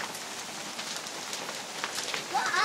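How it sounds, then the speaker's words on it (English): Summer hail strikes the ground and surfaces at a lake with a dense, crackling patter of many small impacts, close and fairly loud, with a faint voice near the end. "That's hail."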